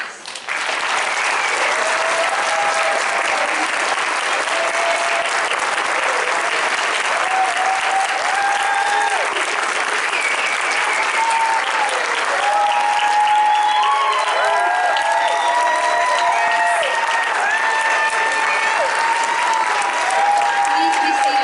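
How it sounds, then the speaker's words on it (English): Sustained applause from a standing audience at a high school National Honor Society induction ceremony, steady dense clapping throughout with crowd murmur and some voices mixed in. "Please stand for a round of applause."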